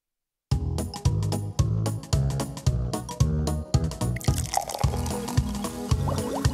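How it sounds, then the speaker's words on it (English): Liquid glugs steadily into a glass, close and loud, with a regular pulsing gurgle and bright splashing as it fills. "Why have you poured it into a glass, Lee?"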